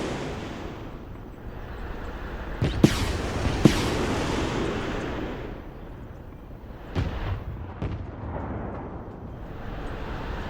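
Striker armored vehicles in the Broken Arrow war game fire anti-tank guided missiles: a few sharp, loud launch cracks land in pairs over a rumbling battlefield bed, with rushing swells between shots.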